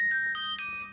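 A cell phone ringtone interrupts a reading of Moby Dick, a short electronic melody of steady tones that step between pitches, heard close and clear with no talking over it.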